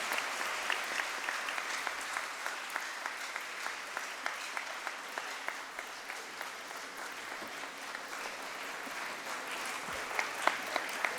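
A large audience at a memorial lecture series gives sustained, dense applause after a lecture, a steady wash of many hands clapping continuously for over ten seconds with a few louder individual claps near the end.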